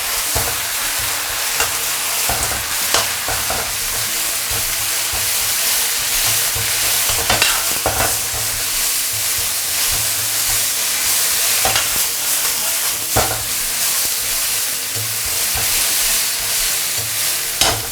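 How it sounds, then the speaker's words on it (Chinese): Sweet potato leaves stir-fried in a wok with ginger, garlic and chili, a loud continuous sizzle with scattered scrapes and clinks of the spatula against the pan, no talking. "炒香以后下入这个番薯叶啊，或者红薯尖、红烧尖"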